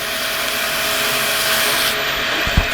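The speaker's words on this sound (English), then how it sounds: "Now I can start sanding. Now I've got 400 grit here." Sandpaper of 400 grit rubs over a resin and wood gumnut pendant in a close, continuous, even scratching that keeps up without a break for a few seconds.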